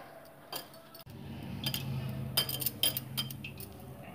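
A chapathi laddoo mixture is stirred with ghee in a bowl, giving soft, close scraping and mixing noises with light clinks of a spoon against the bowl, quiet and without talk.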